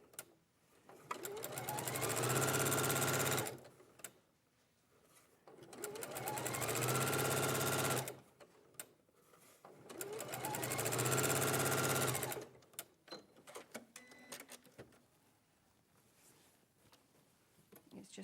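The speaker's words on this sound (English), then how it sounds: "I'll just sew this down." A domestic sewing machine stitches a fabric seam in three long, loud bursts of rapid, even whirring, each about three seconds, separated by short pauses with light handling noises and a brief voice near the end.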